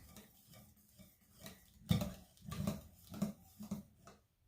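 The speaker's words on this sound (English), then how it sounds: "Now, whisk that together." A whisk clicks and scrapes against a bowl while mixing egg-free pudding with vanilla, a series of irregular, close rhythmic taps and stirring strokes with no talking.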